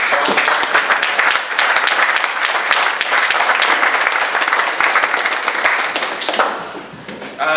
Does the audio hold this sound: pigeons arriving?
no